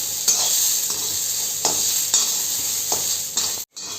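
Dried red chillies dry-roasting in a kadhai for Maharashtrian thecha, a steady faint crackle under a few louder scraping stirs, no voices.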